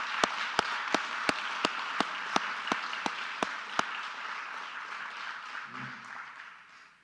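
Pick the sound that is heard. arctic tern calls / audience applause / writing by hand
audience applause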